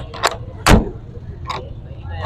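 A car door on a 1988 Suzuki FX shuts with a single solid thump near the middle, set among a few lighter clicks and knocks from the car body.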